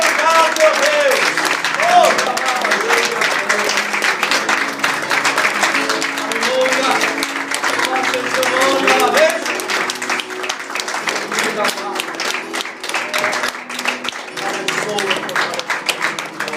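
A congregation claps in praise during a church service, a long, steady, close round of applause with voices and singing running through it.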